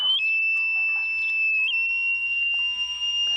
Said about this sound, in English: so that I can hear it beeping as I'm driving